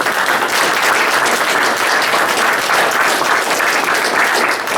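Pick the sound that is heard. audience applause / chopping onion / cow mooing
audience applause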